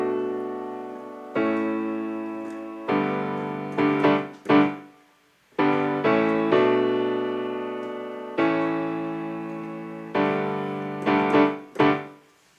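Piano chords played in a rhythmic pattern, with sustained block chords broken by quick repeated stabs, moderately loud and without any voices.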